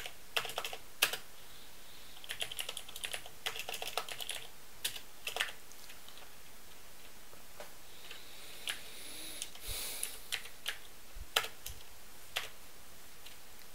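Typing on a computer keyboard while setting up a Python library, with bursts of crisp, close key clicks and pauses between runs of keystrokes, no talking.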